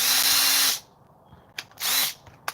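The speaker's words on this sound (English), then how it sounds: "I can actually put them on my drill and then spin the drill" A handheld power drill whirs at high speed in two close, loud bursts: a sustained spin of almost a second, a pause, then a shorter second run, with a faint click afterward.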